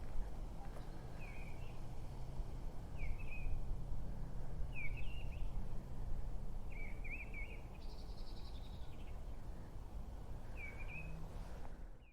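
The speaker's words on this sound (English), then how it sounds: "There is a lovely bird singing at the minute." A bird sings repeatedly from outside a church, short chirping phrases every second or two, faint against a soft low rumble of wind and room noise.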